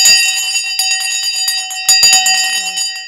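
Stock market opening bell ringing on a live trading broadcast: a loud, sustained electric bell clanging steadily for several seconds, with a brief voice near the end.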